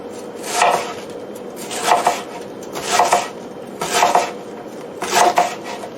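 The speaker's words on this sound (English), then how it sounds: "Now I'm going to start cutting up my cabbage, and the important thing is to make the pieces very thin." A knife slices cabbage into thin shreds for sauerkraut, producing five evenly spaced crunchy chopping strokes against a cutting board, close and fairly loud with a steady background hum between cuts and no talking.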